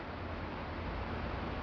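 Steady broadband mechanical hum of air conditioning and machinery in an underground car park, constant and fairly loud with no pauses.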